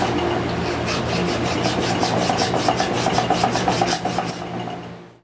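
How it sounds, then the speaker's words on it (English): A safe edge file rasps back and forth across iron tenons being fitted to a backplate for a forged sliding bolt latch, in steady, close, rhythmic strokes of roughly two per second that fade out at the end. "with the safe edge file, fit the tenons to the backplate"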